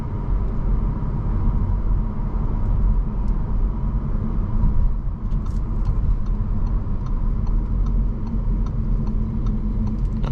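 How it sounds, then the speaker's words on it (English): A 2023 Audi A4 45 Prestige accelerates uphill at half throttle, heard from inside the cabin as a steady, fairly loud low engine and road rumble that holds for the whole stretch. "half throttle acceleration going up this hill here"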